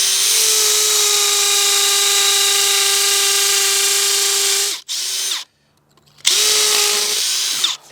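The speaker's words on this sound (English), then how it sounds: "then pilot the other 5 out" A power drill bores pilot holes for mounting a Nautilus flood barrier, a loud close whine held for nearly five seconds, then a short burst, a pause and another sustained run.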